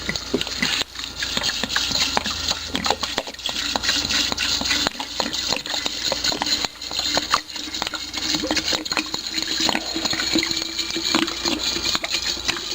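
Vodka from a 1.75-liter bottle pouring into a jar of Ku Yu Cheung Dit Da Jow iron palm herbal liniment, a long, steady gushing pour with glugging and splashing, close and continuous.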